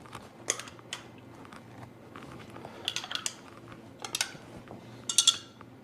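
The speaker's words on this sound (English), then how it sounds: "we'll kind of stir these up real quick so you can get a better look" Spoons stirring colorful water samples in several cups, a run of light clinks and scrapes against the cup walls, irregular and close, coming in small bursts with quiet gaps between.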